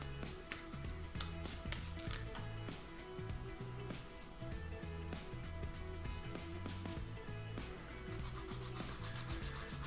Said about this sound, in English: let's see if I can get some kind of tip on this using sandpaper